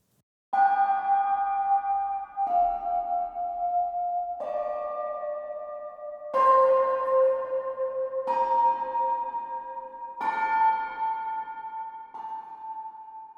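A sampled yun lo, a Chinese cloud gong, is struck seven times in a slow stepped sequence; each clear metallic tone rings at a different pitch and sustains until the next hit, close and alone.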